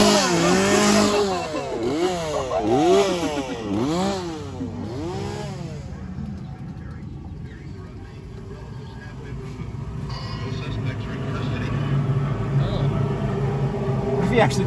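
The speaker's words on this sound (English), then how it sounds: "He's got a chainsaw." A chainsaw engine revs up and down in repeated bursts at a drive-thru haunted attraction, then drops to a lower idle while voices talk nearby.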